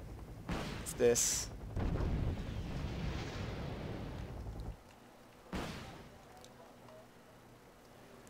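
Anti-tank guided missiles firing and exploding in the video game Wargame: Airland Battle: heavy booming blasts, a sharp crack near the start, a long rumbling roar, then another distant thump, with brief talk.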